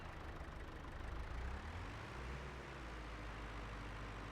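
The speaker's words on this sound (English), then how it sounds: "park this tractor back here" A tractor engine idles steadily in a farming video game, a low continuous rumble holding even for several seconds with no talk over it.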